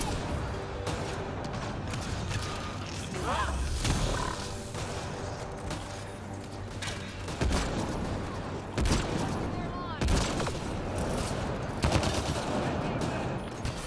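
Rapid bursts of gunfire from the sci-fi shooter Mass Effect Andromeda, loud and dense throughout, mixed with grunts and other combat noise while someone talks over it.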